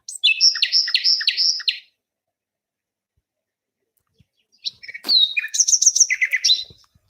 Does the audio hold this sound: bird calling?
yes